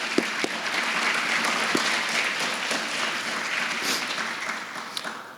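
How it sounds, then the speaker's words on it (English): An audience applauds State Farm insurance agents at a university funding event, dense continuous clapping at moderate volume with a few sharper individual claps standing out, fading slightly toward the end. "So would you give our agents a round of applause?"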